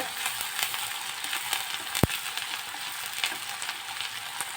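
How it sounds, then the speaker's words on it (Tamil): Onion sautéing with ginger garlic paste in a pan for pav bhaji masala: a steady, dense hiss of frying oil throughout, up close, with one sharp tap of a utensil partway through and faint stirring, no voices. "இப்போ இஞ்சி பூண்டு பேஸ்ட் போட்டு வதக்கிக்கோங்க"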